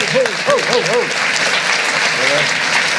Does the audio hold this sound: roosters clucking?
no